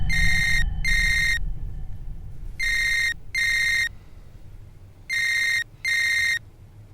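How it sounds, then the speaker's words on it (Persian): A telephone rings in three pairs of loud electronic bursts, each burst about half a second long, with low room noise and rumble underneath. "زنگ خورد."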